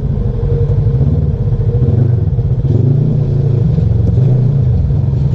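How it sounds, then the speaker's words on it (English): An off-road vehicle at Windrock has all four tires spinning and slipping on clay, its engine droning loud and steady at close range as it revs continuously without traction, with no talk over it. "Yeah, all four tires are just on that clay, just slipping"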